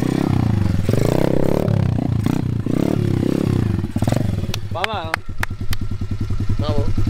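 A motorcycle engine runs loudly nearby, with a steady low drone and some rising revs, while people talk over it.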